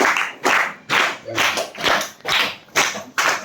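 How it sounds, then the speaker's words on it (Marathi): A group claps together in a reading-sharing gathering, with sharp bursts of clapping rising and falling about twice a second, fairly close and loud, with no talk over it. "तुमच्यासाठी आपण जोरदार टाळ्या वाजवूया सगळ्यांनी टाळ्या वाजवूया"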